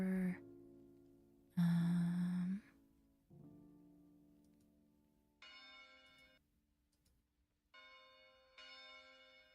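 Church bell sound effect previewed in short separate bursts, a couple of louder low tones followed by softer ringing chime-like hits with pauses between, alone with no talking.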